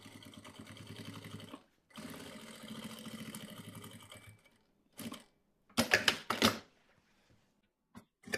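Sewing machine topstitching along a zipper seam on a small fabric cosmetic pouch, running in two long steady bursts of rapid needle chatter, then a few short quick stitches after a pause.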